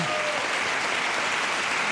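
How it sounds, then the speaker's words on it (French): Brief studio applause on a French radio show, a dense, even patter of clapping from the audience that fills the short moment at steady volume with no voices. "Merci quand même, on peut applaudir Émeric."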